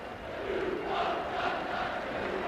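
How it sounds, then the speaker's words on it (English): A football crowd at Vale Park applauds and cheers without letup as players leave the field after Andy Porter's testimonial between Port Vale and Derby, a thick, even wash of clapping and voices. "the applause still ringing around the ground"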